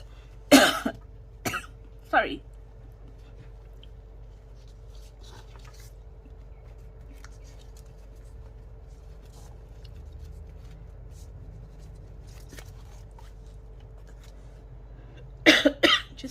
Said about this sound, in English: Otherwise, you're going to hear me coughing all the time.